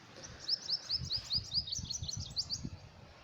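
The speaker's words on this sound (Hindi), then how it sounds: "पक्षी शायद नहीं दिख रहे होंगे, लेकिन उनकी आवाज़ ज़रूर आ रही होगी" Small birds chirp outdoors in a quick, repeated run of high tweets that carries through the whole stretch, over a low, muffled rumble of background noise.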